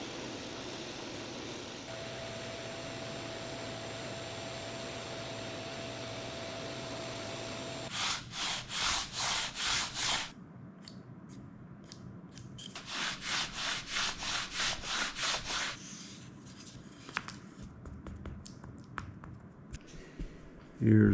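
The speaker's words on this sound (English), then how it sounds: "I'm going to use my poor man's spindle sander for this." A homemade spindle sander shapes balsa wood cradles in two close bursts of rhythmic rasping grinds, each lasting a few seconds, separated by quieter handling sounds.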